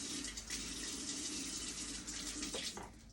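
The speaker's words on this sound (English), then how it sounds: "Let's put some more water on here," Water pours steadily from a tap into a pot while Ghanaian fufu is being cooked, a continuous close rushing splash lasting about three seconds before easing off.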